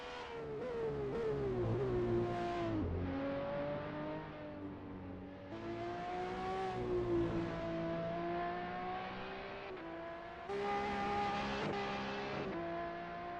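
A Renault race car engine in a sim racing GT3 event at Barcelona howls continuously, rising through the gears with sharp shifts and brief lifts, loud and close, with no talking.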